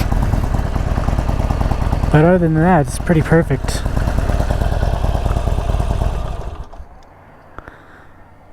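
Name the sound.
new motorcycle engine idling with stock chrome exhaust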